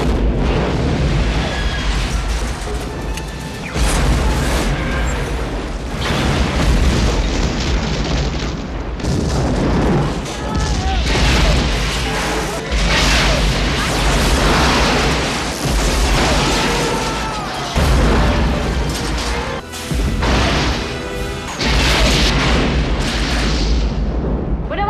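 Movie explosions from action films starring Jean-Claude Van Damme or Steven Seagal: dense, loud booms and blasts, a sustained barrage of bursts and rumbling impacts mixed with a film soundtrack.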